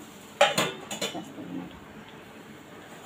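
A metal lid is lifted off a cooking pan of vegetable filling for masala dosa. It gives a few quick, close clanks and clinks, then quiet.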